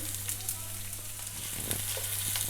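Finely chopped onion softening in a pan, a steady close sizzle with scattered crackles and occasional stirring scrapes, under a low constant hum.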